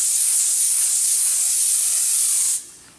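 Compressed air from an air compressor blows out in a steady, loud hiss for a few seconds, then cuts off abruptly and fades to quiet, heard up close in a garage.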